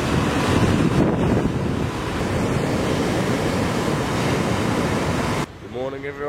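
A wind and rain storm at night roars as a continuous loud rush of gusting wind and pouring rain, ending abruptly as a voice begins speaking.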